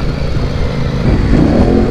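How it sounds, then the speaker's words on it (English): A dual-sport motorcycle, a Tenere 700 or XC800, revs loudly and spins its rear tire on gravel at a gravel pit, a close, rough engine roar that swells toward the end. "Just spun the tire."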